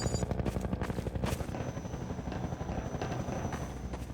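A helicopter in the video game Half-Life 2: Episode Two throbs loud and close with steady rotor chop, a dense continuous drone filling the whole stretch.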